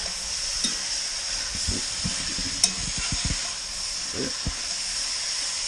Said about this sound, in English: We'll give this a nice stir.